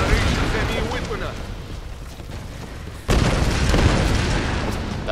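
Loud rumbling booms and blasts roll on continuously in the video game Tomb Raider (2013), with a sharp new burst midway that keeps the roar going.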